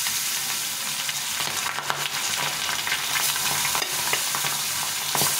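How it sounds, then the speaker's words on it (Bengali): Pabda fish fries in hot oil with a continuous close sizzle and scattered crackles and pops throughout, with no talking. "এখন মাছগুলো ভেজে নেব"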